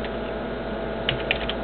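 Keys on a computer keyboard are tapped to enter a type command at the console of an IMSAI 8080 running CP/M, a few soft clicks near the end over a constant machine hum.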